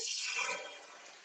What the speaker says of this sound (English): now you're gonna add your water to steam it